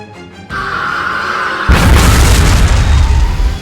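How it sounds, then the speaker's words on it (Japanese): An explosion of the ward in the video game Code Geass Lost Stories: a steady hum gives way to a loud, deep boom that rolls on as a sustained rumble to the end. "ウォードが爆発？ 自爆したのか？"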